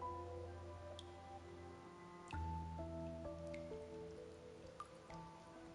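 Rain in the video game Wuthering Waves, with scattered drips and raindrop ticks over a soft, sustained musical tone, quiet and fairly even throughout, without any talking.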